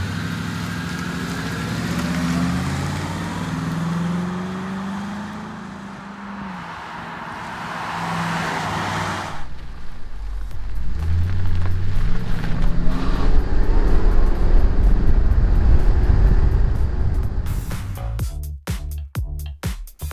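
A Mercury Panther-platform car with AP Xlerator mufflers and Walker dual exhaust idles with a deep burble. It then revs in several hits that swell into a loud, rumbling roar, close by, with no voices.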